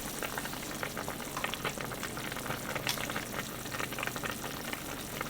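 Green beans and potatoes simmer in a covered pot, giving off a steady, dense bubbling hiss with soft popping that carries on evenly and loudly throughout, with no talking.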